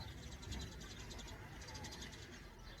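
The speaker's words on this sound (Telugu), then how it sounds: "అది వాన కోయిలా" A rain cuckoo calls faintly near a house roof with a series of repeated soft notes, partly masked by a murky background that may hold distant voices.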